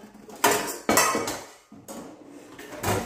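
A metal saucepan clanks and rattles several times up close, sharp knocks followed by ringing, with short pauses between.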